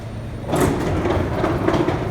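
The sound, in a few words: subway train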